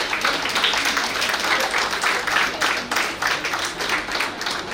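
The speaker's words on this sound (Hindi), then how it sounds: "एक बार जोरदार तालियों से आप उनका अभिनंदन कीजिए" An audience at an award ceremony in Delhi claps steadily for honorees, giving a continuous, moderately loud patter of applause with no break.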